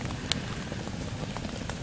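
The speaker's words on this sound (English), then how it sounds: "it's raining out" Rain falls steadily outdoors at a primitive campsite, a dense, even patter with a few sharper drops, with no voices.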